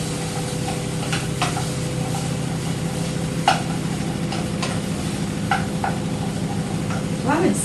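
Onions and potatoes cook in a pot for lentil soup, giving a steady, fairly loud sizzle with occasional soft stirring scrapes and clicks throughout.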